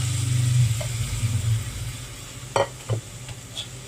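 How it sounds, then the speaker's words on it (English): Tomatoes stirred into bitter melon in a wok over high heat: a low rumbling hiss of cooking runs under the first half, then a few short, sharp scraping strokes of a utensil against the pan. "give it a good stir"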